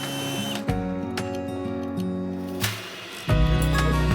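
Power drill widening bolt holes on a solar panel mounting arch outdoors, sounding in steady whirring bursts with a short pause, then a louder, heavier run at the end, close by.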